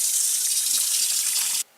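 Running tap water pours over dry beans being rinsed at a sink, a loud, steady hissing stream close by that cuts off abruptly near the end, with no talk.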